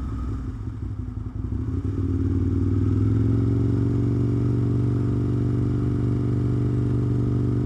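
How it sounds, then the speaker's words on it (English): An Aprilia RSV 1000 V-twin motorcycle engine rumbles near and loud, its deep steady drone swelling after a rougher start and holding on without talk. "when you got noise reflection from buildings, this engine sounds mean. Sounds big and mean."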